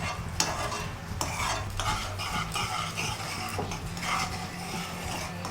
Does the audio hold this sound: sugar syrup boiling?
yes